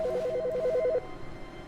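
A telephone rings in the video game The Stanley Parable, a steady electronic ringtone pulsing for about a second, then cutting off to a quiet room hum.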